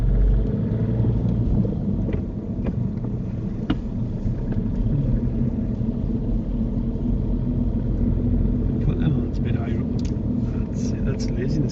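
Engine rumble swells as the gas is applied in a manual-gearbox car during a driving lesson, a steady low drone running under the whole stretch, with instructor and learner talking over it.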